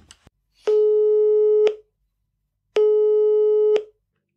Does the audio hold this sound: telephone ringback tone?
yes